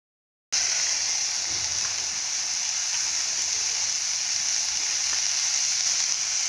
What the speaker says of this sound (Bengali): তারপর তেল দিয়ে ভালো করে ভেজে নেব।